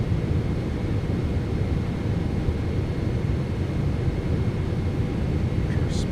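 Steady broadband engine and airflow roar of a PMDG 777-200ER airliner in Microsoft Flight Simulator 2024 on final approach, constant and loud throughout.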